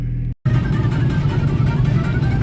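Interior drone of an Audi A6 C5 2.5 TDI diesel on a final test drive after repair. A steady, loud low engine hum cuts out for a split second near the start, then resumes evenly.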